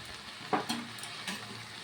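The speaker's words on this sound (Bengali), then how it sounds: "এইবারে ঘি দিয়ে দিচ্ছি" Ghee going into a pan of ash gourd and prawn curry: a quiet, short stretch of soft sizzling with a couple of brief crackling bursts and faint stirring.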